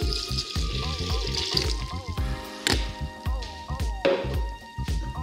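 Water, 375 ml, poured over malted yeast while making a vegan double-cheese pizza dough, heard as soft splashing and dripping beneath a steady speaking voice.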